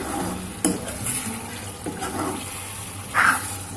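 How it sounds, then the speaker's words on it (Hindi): Chicken is stirred and mixed in a cooking pot, giving wet, sloshing scrapes and a couple of sharper clinks against a constant background hum, with no voices. "अब इसको हम चलाएंगे, इनको अच्छे से मिक्स कर लेंगे।"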